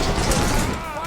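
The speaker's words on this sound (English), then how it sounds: "You got the fire grenade too, you see?" A fire grenade bursts in the video game Wanted: Dead, giving a loud, dense rush of crackling blast noise that fills the short moment.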